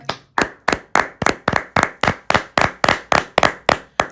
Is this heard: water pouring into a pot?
no